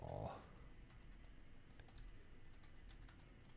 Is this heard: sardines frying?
no